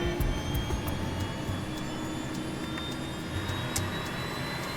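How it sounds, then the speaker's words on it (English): Jet aircraft engines throttling up in a test flight, heard from inside the cockpit: a loud, steady roar and whine with faint high tones and a few sharp clicks, no voices. "he records the sound of the engines from inside the cockpit. Keep throttling up"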